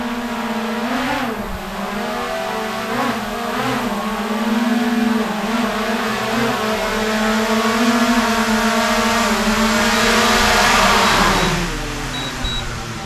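A DJI Mavic Air 2 drone flies with a steady, droning whine whose pitch rises and falls slightly as it moves, loud and continuous throughout with no talking.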